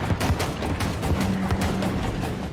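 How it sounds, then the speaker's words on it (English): Cannons fire in a Total War Warhammer 3 battle as a dense, continuous barrage of overlapping booms and rumbling blasts, loud and close, with no pauses between volleys. "It's a quality effect, but those are cannons."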